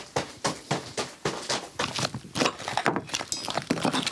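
A foley artist walking on a gravel surface: crunchy, close footsteps in an uneven rhythm of about a dozen steps, each a sharp gritty crunch with no talking.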